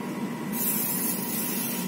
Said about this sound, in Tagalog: Spray mo lang siya sa loob.